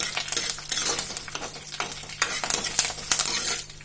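Drumstick leaves sautéed in a pan for Kerala-style curry, loud close sizzling broken by rhythmic stirring strokes, with no voices.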